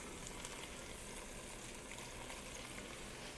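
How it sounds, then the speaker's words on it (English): Partially frozen, very lean farm-raised ground beef cooking in a pan, giving a faint, steady, even sizzle throughout with no other sounds. "we're going to just check on this hamburger that's cooking"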